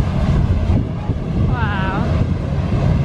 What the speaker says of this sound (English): Hovercraft. Very cool.